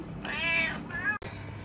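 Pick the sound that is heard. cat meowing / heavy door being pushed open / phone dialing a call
cat meowing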